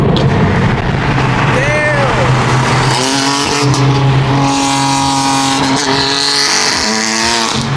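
A red BMW F80 with its resonators removed fires up loud and raspy nearby, the engine note rising and holding in a harsh tone, with people talking over it.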